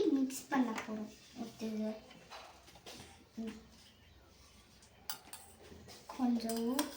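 A spoon stirring soup in a bowl, giving repeated ringing metallic clinks against the dish in bursts, close and clear, with someone talking over much of it.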